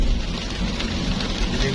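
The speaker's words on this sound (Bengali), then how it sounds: "প্রচুর বৃষ্টি হচ্ছে" Heavy rain pours down steadily in Mecca, a dense, continuous hiss close by with no pauses across the whole stretch.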